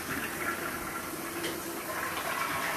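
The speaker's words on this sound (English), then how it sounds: "let's do a quick flush check on this bathroom" A bathroom toilet is flushed during a move-in inspection, giving a steady loud rushing of water that runs through the whole clip with no talking.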